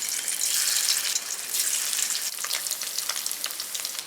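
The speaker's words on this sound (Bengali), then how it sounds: "এবার পনিরগুলো আমি একে একে ভেজে নেব" Paneer pieces fry in hot oil in a kadai, a bright, steady hiss and crackle that carries on without pause, fairly close and alone with no talk.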